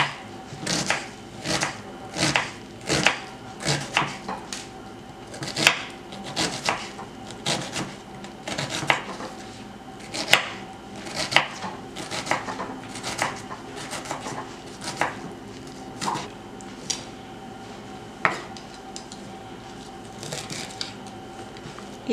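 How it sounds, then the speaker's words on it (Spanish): Onion being diced with a knife on a cutting board while preparing taqueria-style salsa: soft, quiet, steady chopping thuds, roughly one or two per second, with occasional scraping and no talking. "Entonces picamos la cebollita,"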